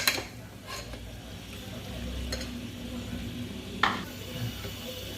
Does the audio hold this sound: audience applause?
no